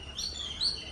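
A bird chirps nearby outdoors, one of those that come to eat puttu, giving a brief pair of high, thin calls over a quiet background.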